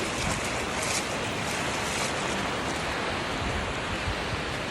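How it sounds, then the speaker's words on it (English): Ocean waves rolling in at a Puerto Rico beach, a steady loud wash of surf with constant hiss and no pauses, close to the listener. "But all the waves are coming in."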